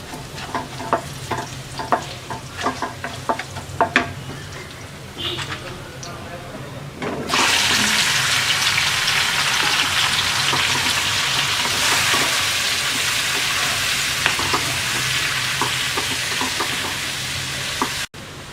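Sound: monkey jackfruit being fried and stirred with garlic

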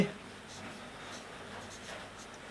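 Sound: writing with a pen

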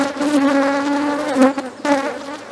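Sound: honeybees buzzing around a hive being divided

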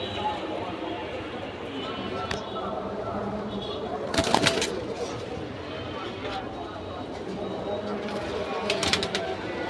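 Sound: pigeons cooing

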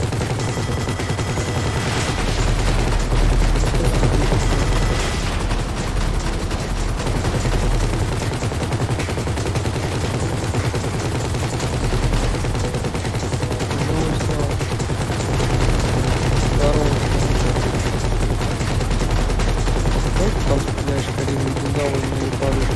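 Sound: gunfire during a shootout in the video game Grand Theft Auto V

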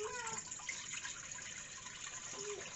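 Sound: water poured into a cooking pot

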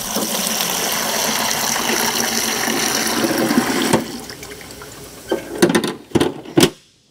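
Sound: water poured from tray into bucket

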